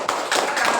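A classroom of students claps together in a short, close, dense burst of applause with no talking.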